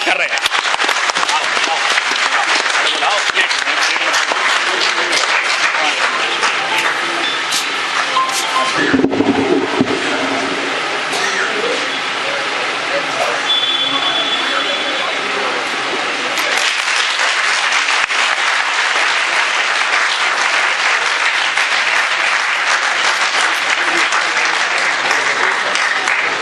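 An audience in a large hall claps loudly and steadily to welcome a speaker at an evening event, a dense sustained wash of applause that dips briefly midway, with voices faintly mixed in.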